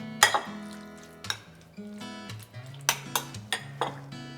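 A utensil scraping and clinking against a bowl in irregular strokes while food is mixed with sauce, black pepper and salt for chilli basil fried rice, close and fairly quiet.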